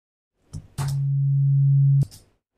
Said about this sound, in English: There's our bass drop